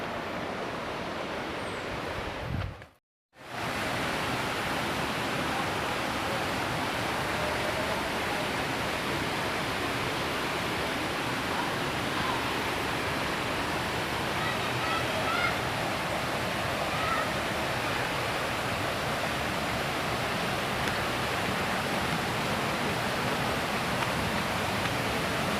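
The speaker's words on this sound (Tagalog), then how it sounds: "naririnig na natin yung lagaslas ng agos ng tubig" Rushing water at Busay Falls in Capoocan, Leyte: a dense, continuous roar of falling water and current, loud and unchanging for the whole stretch apart from one brief dropout near the start.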